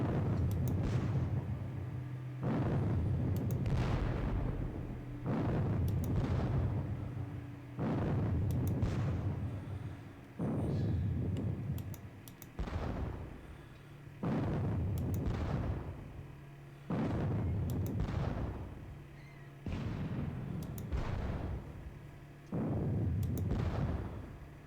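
Gunfire and artillery from a Waterloo video game battle sound as a long series of heavy booming bursts, each lasting a couple of seconds, separated by short gaps, with sharp cracks layered on top.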